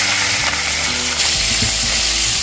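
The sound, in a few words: fish (milkfish) frying in oil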